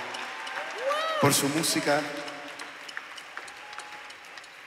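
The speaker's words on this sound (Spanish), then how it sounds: "Démosle un fuerte aplauso, por favor" Applause from a concert audience for local musicians at a show in Marbella, a soft crowd wash under someone speaking and a brief sung or voiced tone over the first seconds.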